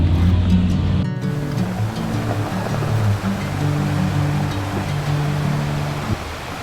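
Monsoon high-tide waves crash at Arambol beach in Goa, a continuous loud surf roar with a steady droning hum beneath it, no talk.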